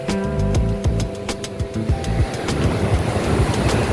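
Waves washing ashore at Padang beach, a steady surf roar with wind buffeting the microphone and a low rumble beneath, no voices.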